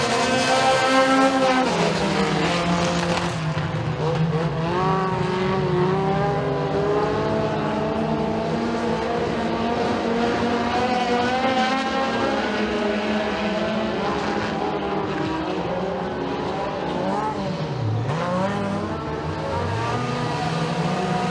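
Race cars roar around the track at Eriez Speedway in a heat race, a dense, continuous wall of engines revving and passing, loud and sustained with no talk.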